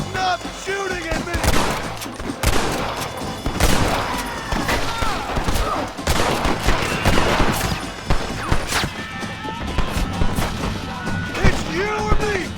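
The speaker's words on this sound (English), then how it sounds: "Stop shooting at me!" Repeated gunfire in a Red Dead Redemption western shootout at a house, volleys of shots and impacts cracking throughout at close range, with a voice calling out over the shooting.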